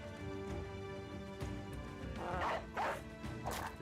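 A war dog in the video game Battle Brothers gives a few short, sharp barks near the end, mixed with thuds and clashes from battle over a low background rumble.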